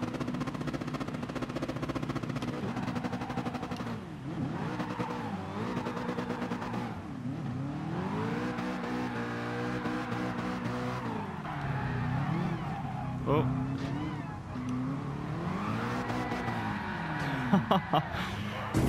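Powerful drift car engine in Gran Turismo Sport revving and wailing continuously, rising and falling in pitch as it accelerates, with tire noise and a brief exclamation from a voice.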